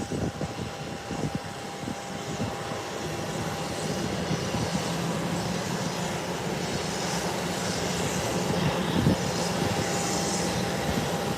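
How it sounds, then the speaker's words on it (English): A United airliner taxiing toward the runway threshold, heard as a steady distant jet engine rumble and whine that holds evenly throughout, with no talk over it. "There you see United heading down the runway, heading towards the threshold of the runway."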